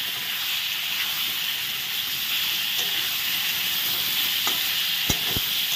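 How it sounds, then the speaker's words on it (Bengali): Ridge gourd pieces fry in a pan with a steady, close hiss and sizzle that holds throughout, broken by a few sharp clicks near the end, with no voices. "সবগুলো ঝিঙে দিয়ে দিলাম এখন ভালো করে ভেজে নেব।"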